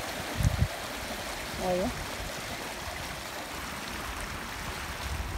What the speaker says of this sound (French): Donc là, on a un autre côté de rivière.